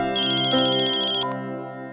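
A mobile phone rings indoors with a steady, melodic electronic ringtone, fairly loud and close, playing alone for about two seconds and changing tone briefly near the end.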